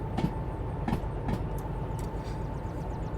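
A train in the Derail Valley video game rolls along with a steady rumbling drone, rhythmic clickety-clack of wheels over rail joints and occasional sharper clanks, close and continuous.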